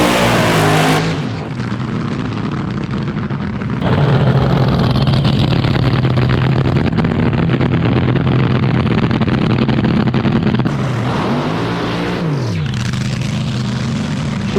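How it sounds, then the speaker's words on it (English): An AA/Fuel dragster engine roars very loudly at a drag strip during a burnout, with surging revs and abrupt shifts in pitch through a short, intense run. "Shane Stewart, a relatively short burnout there"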